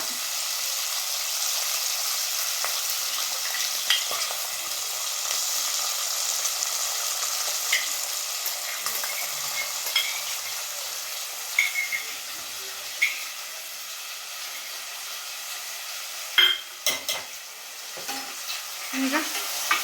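Green masala avarekai sambar sizzles and fries in a pan while being stirred, a steady hiss punctuated by occasional scraping clicks of the spoon.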